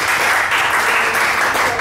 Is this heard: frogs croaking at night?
no